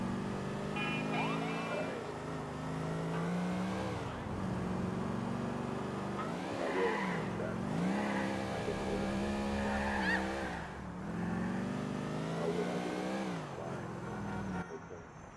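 A car drives through Liberty City in a video game, engine revving and tires squealing in repeated swells, with voices talking over the driving.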